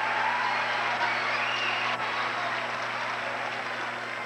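A high-school basketball crowd in the McNary gym, applauding and cheering as Sprague plays McNary: a dense, steady wash of clapping and crowd noise that holds at an even level throughout.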